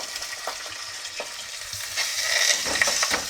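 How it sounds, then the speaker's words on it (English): Chicken thighs sizzle steadily in a hot pan with occasional stirring scrapes, the frying growing louder and more crackly toward the end. "I'm just going to pop the chicken thighs in there, and I'm going to fry them away"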